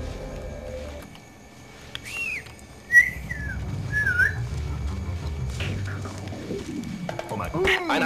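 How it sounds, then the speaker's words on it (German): A character whistles in the stealth video game Splinter Cell Pandora Tomorrow, set at an Indonesian shipyard: several short gliding whistled phrases over game ambience, with a sharp sound effect midway and someone talking. "Was, du pfeifst gerne? Ich auch."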